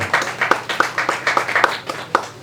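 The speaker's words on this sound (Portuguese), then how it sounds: "pessoa da Ivana Banks, uma salva de palmas" Audience applause at a panel discussion during the Casa da Favela 2024 event in Rio, a short burst of sharp, distinct claps from a modest crowd, close and fairly loud with an uneven rhythm.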